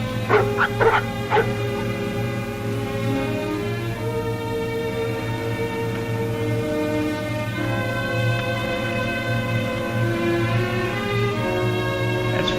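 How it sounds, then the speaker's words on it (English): Dogs whimper, yip and bark in an old radio drama set in the Yukon, with a few sharp barks first and then long drawn-out whining tones over a steady hum. "What in thunder is ailing those dogs?"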